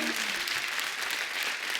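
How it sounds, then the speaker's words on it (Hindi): A studio audience at a comedy talk show breaks into loud, steady applause, a thick wall of clapping that fills a short burst of about two seconds. "एक बार जोरदार ताली हो जाए"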